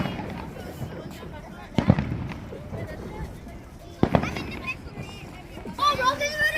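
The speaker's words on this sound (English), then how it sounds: "They're about to light another firework." Fireworks lit and exploding at a bonfire night gathering in Glasgow, two sharp distant bangs over steady crowd chatter and nearby voices, with a whistling rocket rising near the end.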